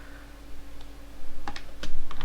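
A command is typed on a computer keyboard in a short burst of close key clicks, which grow louder and quicker toward the end over a steady low hum.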